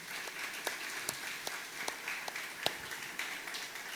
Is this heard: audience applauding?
yes